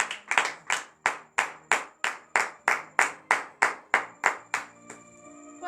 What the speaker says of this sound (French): Donnez de vive acclamation à cette